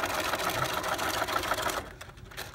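A Bernina sewing machine runs a wide zigzag stitch with a fast, steady mechanical whir, close and loud, then slows and stops near the end.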